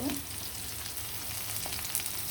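Chopped onions frying with garam masala in a pan, giving a continuous close hiss and sizzle with faint stirring scrapes throughout.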